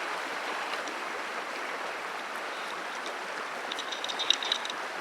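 Jefferson Creek rushes along a Colorado hiking trail, a soft, steady watery hiss with small splashy trickles near the end, moderately close and with no voices.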